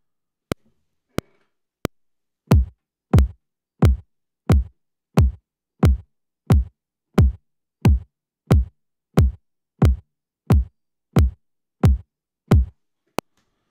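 A kick drum thumps in steady quarter notes, a dozen or so deep, punchy hits at an even pulse, preceded by a few sharp click-track ticks, with nothing else playing.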